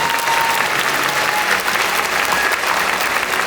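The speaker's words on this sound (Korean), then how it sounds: "인사하실 때 큰 박수로 축하해 주십시오." A congregation at a pastor ordination ceremony for 129 newly ordained ministers claps loudly and continuously, a thick wall of applause filling the hall.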